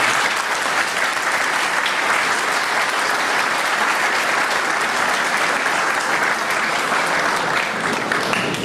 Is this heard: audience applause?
yes